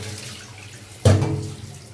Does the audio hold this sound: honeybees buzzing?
no